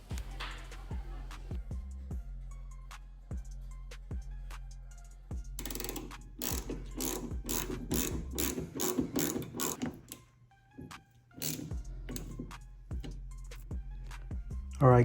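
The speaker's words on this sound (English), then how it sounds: "Now it's time to tighten everything up and see what this thing does." A ratchet wrench tightens the battery cable bolts on a Chevy Caprice during a big three wiring upgrade, giving bursts of close, rapid clicking with short pauses between runs. No one talks over it.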